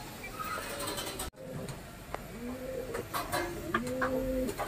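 Homing pigeons at a loft coo several times in low, rounded, warbling calls, close and fairly clear over a steady outdoor background hiss, with a brief dropout near the start.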